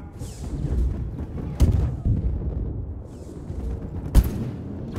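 Blaster weapon fire and explosions in the Star Wars Battlefront video game, with scattered bursts and two sharp loud cracks over a rumbling battle background.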